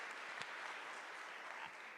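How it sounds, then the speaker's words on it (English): A crowd at an official event with Kenya's President Ruto claps for US Vice President Kamala Harris, a dense, even spread of applause heard faintly and a little distant. "a round of applause for the Vice President"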